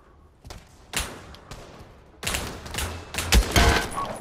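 Gunfire in the VR game Pavlov on PS5: a few sharp single shots at first, then heavier overlapping blasts and thuds that grow louder toward the end.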